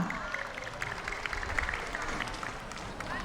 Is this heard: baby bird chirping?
no